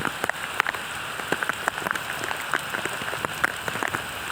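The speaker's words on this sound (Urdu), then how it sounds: "بہت تیز بارش, بہت تیز بارش." Heavy rain pours down steadily, a dense, even hiss of drops on surfaces with scattered louder splashes, continuous and fairly close throughout, with no talk.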